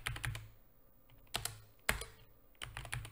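Typing on a computer keyboard: quick clusters of close, quiet key clicks separated by short pauses, with no talking.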